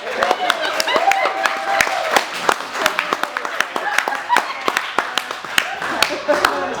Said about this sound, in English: You can clap for me, I'll take it.